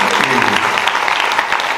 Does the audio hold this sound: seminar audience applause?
yes